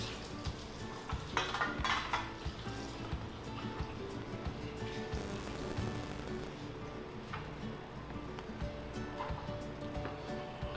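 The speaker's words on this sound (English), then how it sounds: "You fold it this way, you cut, you scrape the bottom, go up." Caramel cake batter being folded with a spatula in a bowl, giving soft scraping and dull clinking from the bowl that run steadily and fairly faintly for several seconds, with no one speaking.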